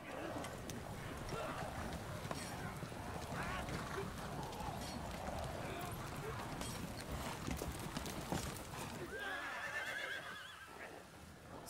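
Horse hooves clip-clop and a horse whinnies in the video game Blue Dragon, a steady trotting rhythm mixed with game sounds and background voices, while people talk over it.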